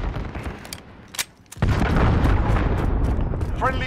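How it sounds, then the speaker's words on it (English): Allied cruise missile explosion in Call of Duty: Modern Warfare, a sharp sudden blast that opens into a sustained loud roaring rumble, with scattered gunfire cracks and game voices around it. "Allied cruise missile away."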